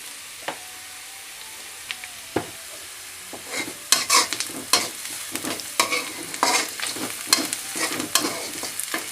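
Onions and chilies frying in a pan with cumin and turmeric, sparse scrapes at first, then a busy run of stirring clatters and crackling sizzle close by.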